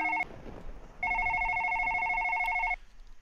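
Telephone ringing in the horror video game One Late Night: a short electronic ring tone, a brief pause, then a longer sustained ring that cuts off cleanly, loud and close.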